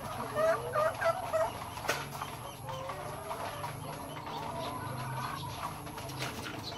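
Kabir breed chickens in a flock let out repeated clucks and gobble-like fowl calls, loud and close at first and then settling into a busy layer of calls and squawks over steady background noise.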